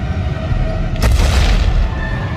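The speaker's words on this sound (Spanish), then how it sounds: "De repente se oye un estruendo lejano." A deep boom of an earthquake rumbles up over a low background drone, a single heavy burst that swells and lingers before fading.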